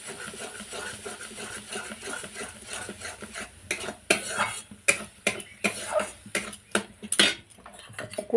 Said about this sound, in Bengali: আর এইভাবে খুন্তি দিয়ে এই মিশ্রণটা নাড়তে